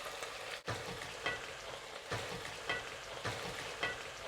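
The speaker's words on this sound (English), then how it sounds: "Now we just thicken the liquid up a little bit with cornstarch solution." Cornstarch solution being stirred into simmering beef suan cai in a pan: continuous bubbling sizzle with rhythmic scraping strokes of a spatula roughly every half second, close and steady, no talking.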